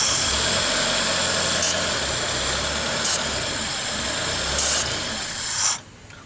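A Mitsubishi Lancer engine idles low and steady, a continuous near rumble with faint rasping tool-like ticks over it, cutting off abruptly near the end.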